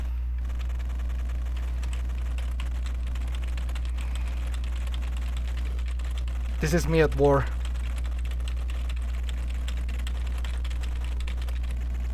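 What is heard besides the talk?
computer keyboard typing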